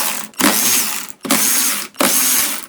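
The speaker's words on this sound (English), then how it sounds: "I'm just gonna be using my Milwaukee 3/8 cordless ratchet" A Milwaukee 3/8-inch cordless ratchet spins out bolts on a snowblower in three close, loud bursts of motor whir, each lasting well under a second with brief pauses between.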